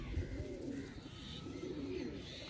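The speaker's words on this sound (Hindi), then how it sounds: "ये कबूतर है" A domestic pigeon kept by a pigeon fancier coos in low, rolling, repeated phrases, close and steady over a constant background hiss, with no one talking.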